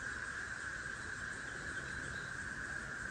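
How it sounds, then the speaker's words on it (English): A continuous high, buzzing drone of cicadas fills the woods, steady and even throughout, with no voices. "I don't know if you guys can hear those cicadas, but it sounds like our woods are singing"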